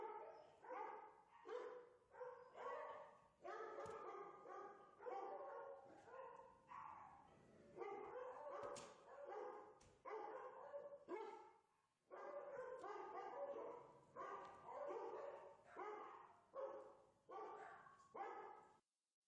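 A shelter dog barks repeatedly in bursts of sharp, yelping barks with short pauses, close and clear, with occasional whimpers between.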